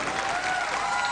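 A standing crowd applauds a women's bowling tournament champion at the 2011 USBC Queens, with steady, dense clapping throughout the short burst and no talk.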